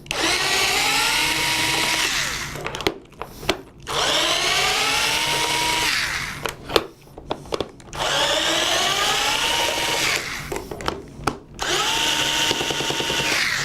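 A power drill backs screws out of a bike's front gear platform, whirring in three long loud bursts with brief stops and short revving blips between them, close up and with no talk over it.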